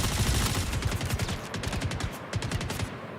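Rapid automatic gunfire from a hard-to-control weapon in the Star Citizen video game, loud dense bursts rattling continuously for the whole stretch with no voices.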